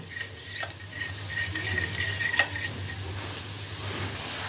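Masala with Kashmiri chili and cumin powder stirred in an oily pan with potatoes, faint scraping and a light sizzle under a low hum, with one sharp spoon clink midway.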